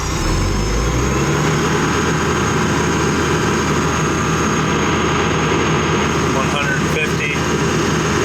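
A John Deere 310SL backhoe with slow hydraulics revs up: the diesel rises at the start, then holds a loud, steady, rumbling drone close by for several seconds.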